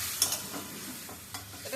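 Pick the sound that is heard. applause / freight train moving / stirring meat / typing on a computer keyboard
stirring meat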